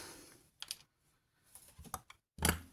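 Wire cutters snipping the bent end off a length of 1.2mm jewellery wire, giving a few short, sharp clicks and snaps close by, separated by brief quiet gaps, with the final snip loudest.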